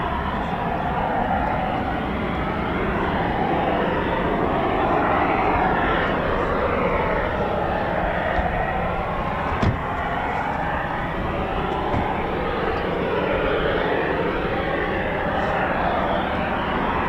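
A Eurofighter Typhoon FGR4 jet flies as a steady distant roar with shifting rumble, broad and continuous throughout.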